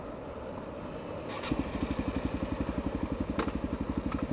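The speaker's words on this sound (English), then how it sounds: "Engine on." A Yamaha RZ motorcycle engine starts after a quiet moment and settles into a loud, even, rapid two-stroke idle thump that continues steadily to the end.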